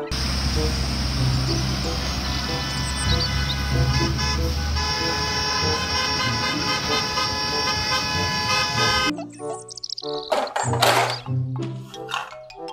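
A toy school bus plays a long sustained electronic engine and horn sound, loud and close with steady tonal honking over a rumble, then breaks into a burst of jingly sound effects and tooting at the end.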